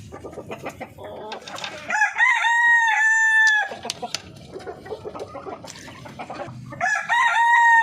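Chickens cluck continuously at close range while a rooster lets out two loud, drawn-out crows, one in the middle and another at the end, with the hens chattering in between.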